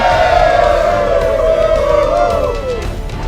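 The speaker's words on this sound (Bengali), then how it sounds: "উপস্থিত খুনির দল উল্লাসে ফেটে পড়ে" A dramatized crowd of killers bursting into raucous cheers, many voices roaring and whooping together in one loud sustained swell that fades toward the end.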